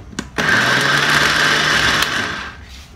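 A kitchen blender whirs loudly through rice and water for about two seconds after a couple of quick clicks, then winds down.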